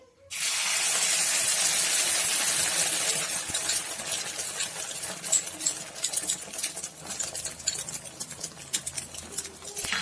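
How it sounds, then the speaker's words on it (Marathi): Two beaten eggs hit a hot oiled pan for a village-style egg pancake, bursting into a loud, bright sizzle that stays strong for a few seconds, then settles into a steady crackling fry with scattered pops. "आता टाकूयात आपण 2 अंडे, जे की छान मिक्स करून घेतलेले आहेत ते"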